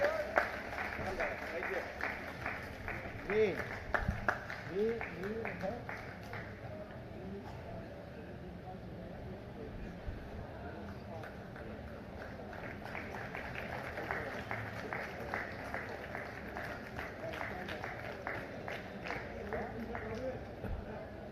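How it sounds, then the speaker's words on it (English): Audience at a live tribute night for tennis legend Leander Paes gives a steady, fairly distant round of applause, a dense patter of clapping that carries on for many seconds under a faint voice. "please give him a huge round of applause"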